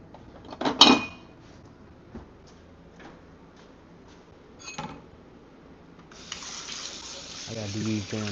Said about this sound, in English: I gotta do these damn dishes.